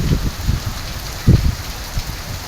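Steady downpour of heavy rain in Lahore, a dense continuous hiss with irregular heavier splashes and drips pattering nearby, loud and unbroken, no talking.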